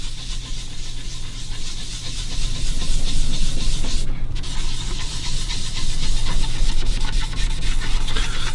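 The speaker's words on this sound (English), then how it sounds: "We're going to come back with the brown and begin to rub this down" A cloth rubbing brown stain into a quilted maple guitar top, producing a continuous close scratchy swishing with steady back-and-forth strokes over a low constant hum.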